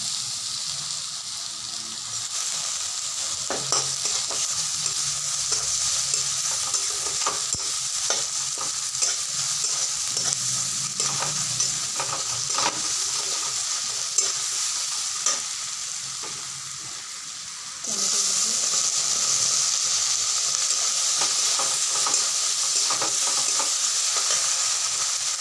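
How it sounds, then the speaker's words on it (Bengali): Grated ginger and garlic fry with onions in a pan for a tadka dal, giving a steady close sizzle with scraping stirs throughout that grows slightly louder near the end. "পেঁয়াজটা হালকা ভাজা হয়ে গেছে, আমি এখন গ্রেট করে আদা রসুন দিয়ে দিচ্ছি"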